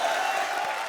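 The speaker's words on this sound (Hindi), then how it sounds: "जोरदार तालियां।" Studio audience at a Hindi comedy show cheering and applauding, a dense continuous roar of crowd noise held steady and fairly loud through the short moment.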